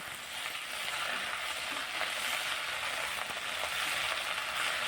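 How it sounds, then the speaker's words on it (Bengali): Leaves stir-fried in a kadai produce a dense, constant hiss of frying, close and steady without speech. "শুধু কড়াইতে এইভাবে নাড়তে নাড়তে যখন একদম ভাজা ভাজা হয়ে আসছে"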